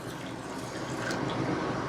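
Water pours steadily into the cooking pot of a Ninja Combi as an extra half cup is added to rice, a continuous close trickling splash with no talk.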